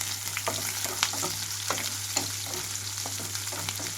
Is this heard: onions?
yes